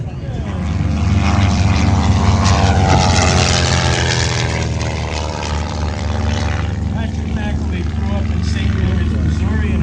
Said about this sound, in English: the propeller on this airplane will spin so fast